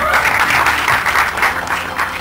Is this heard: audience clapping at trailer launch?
yes